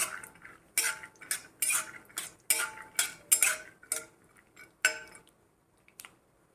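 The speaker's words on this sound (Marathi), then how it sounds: "मुठभर शेंगदाणे आधी आपण शेंगदाणे चांगले तळून घेऊया" Peanuts are stirred in hot oil in a wok, with a metal spoon clinking and scraping against the pan in irregular bright knocks, close and fairly loud, then trailing off, with no voices.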